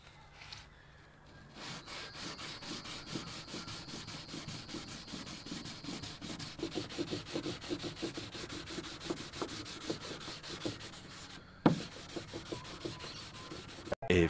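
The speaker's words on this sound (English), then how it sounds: "I'm going to sand this back with a little bit of wet and dry." Wet and dry sandpaper rubs back a cured kayak hull in steady, rhythmic back-and-forth strokes, close and continuous for the whole stretch, with a sharp knock near the end.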